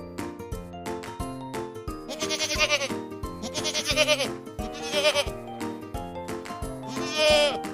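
A goat bleats several times in quick, wavering bursts, each call loud and close, set against rhythmic children's music playing throughout.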